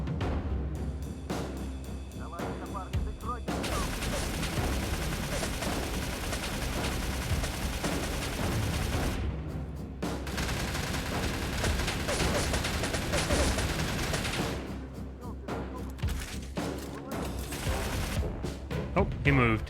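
Gunfire in the game StalCraft: repeated bursts of automatic fire crackle in long dense stretches separated by brief pauses, loud and close, with game ambience underneath.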